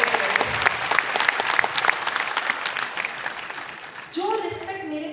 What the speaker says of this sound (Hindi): एक बार पापा के लिए ताली बजा दो इसी बात पे